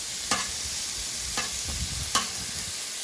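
Pieces of steak frying in a pan, a steady quiet sizzle broken by three sharp scraping taps as a spatula pulls them apart.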